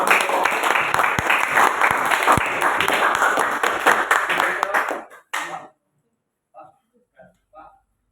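Loud, dense applause from a crowd for children after a class group presentation fills the first five seconds, then cuts off abruptly, leaving a few faint, scattered sounds in near silence.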